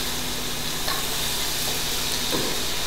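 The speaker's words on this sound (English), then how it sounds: "We're going to let those saute for just a minute." Onions sautéing in a couple of teaspoons of olive oil in a pan over medium heat, giving a steady, soft sizzle that runs unbroken throughout with no talking.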